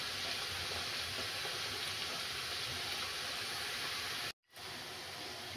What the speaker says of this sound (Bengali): এই যে দেখুন আমি এইভাবে সবগুলো নিমকি ভেজে নেব